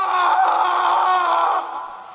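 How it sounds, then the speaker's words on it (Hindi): A man's drawn-out, wavering scream as a horror-story effect, loud and sustained before trailing off. "और फिर अचानक किसी आदमी के चीखने की आवाजें आनी शुरू हो गईं।"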